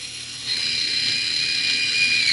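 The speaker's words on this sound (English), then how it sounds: "But I'm still going to go ahead and chamfer and deburr it just in case." Rifle brass for .30-06 cases being chamfered and deburred, a steady high-pitched whirring spin from a case-prep tool that starts abruptly and holds for about two seconds, close and fairly loud.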